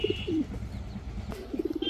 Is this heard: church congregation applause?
no